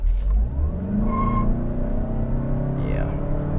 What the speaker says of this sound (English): I'm gonna do a slight acceleration run really quick.